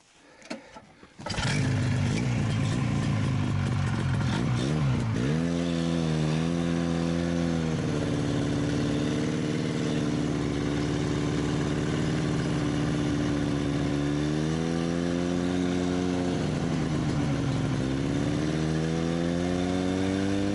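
A car engine starts with a short crank, then settles into a steady idle and revs up and down as the vehicle pulls away, loud and close throughout.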